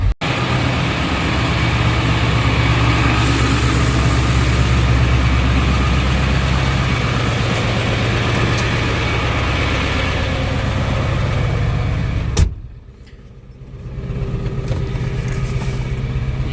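An OBS Ford 7.3 Powerstroke diesel truck engine with bellowed up-pipes and the EBPV deleted idles roughly while warming up, a loud steady low rumble that dips sharply for a moment near the end before settling back.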